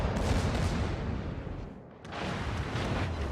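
Tirpitz battleship secondary guns fire in the naval game World of Warships, a dense, continuous roar of loud overlapping blasts that briefly eases before surging again.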